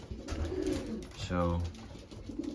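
Racing pigeons cooing at a loft before a long-distance race, a close rolling coo rising in the middle, with a voice speaking briefly over the birds.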